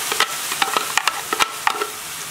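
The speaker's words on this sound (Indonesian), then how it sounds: "Sekarang kita goreng." Ground chili spice paste, coarsely blended, sizzles in hot oil while a spatula stirs it. The scrapes and clicks are loud, quick and close against a steady frying hiss, and nobody talks.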